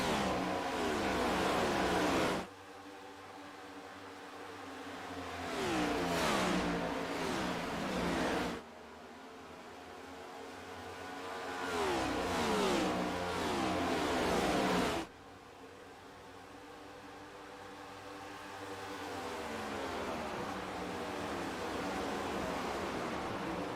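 Next Gen Series race cars roar around Kansas Speedway, engines revving loudly with rising and falling pitch as they pass in repeated waves, then a steadier, more distant engine drone.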